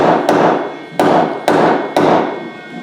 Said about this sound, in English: you can see where he's hammering it